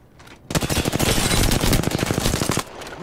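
Rapid automatic gunfire from a survival video game, a loud continuous burst of about two seconds with tightly spaced shots, standing alone with no talk over it.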